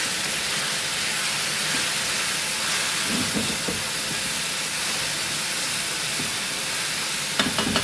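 Chopped vegetables and garlic simmering in hot oil in a pan, a steady, dense broadband hiss holding throughout at even loudness, with a few faint clinks near the end and no talking.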